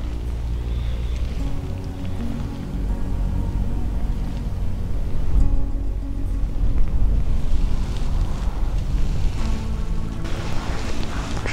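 Steady wind gusting over open water while fishing from a belly boat in winter, a continuous broadband rush with low rumble and buffeting, swelling louder around the middle, with no talk.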